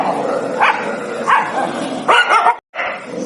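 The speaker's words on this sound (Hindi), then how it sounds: "कुत्तों का पूरा दल गिद्दड़ पर टूट पड़ा" A pack of village dogs barks and yelps in repeated loud bursts as it attacks a jackal, with about four close, overlapping outbursts and a brief silent gap near the end.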